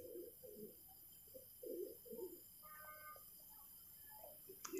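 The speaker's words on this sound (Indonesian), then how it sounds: "Nih jalak suren lagi" An Asian pied starling makes a few low, hoarse calls in short bursts, with brief higher chattering notes in between, fairly faint against a quiet background.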